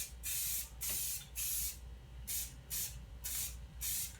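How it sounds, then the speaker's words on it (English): An aerosol can of white spray paint hisses in six short bursts, close and crisp, each spray lasting about half a second with brief pauses between. "I'm gonna spray it white just quickly here."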